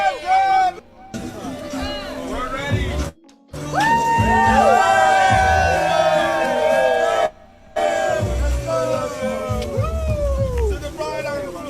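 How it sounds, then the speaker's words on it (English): Wedding guests cheer and whoop for a couple's kiss, a lively crowd roar broken by brief gaps, with people talking and calling out over it. "Kiss, come on, cheer them on."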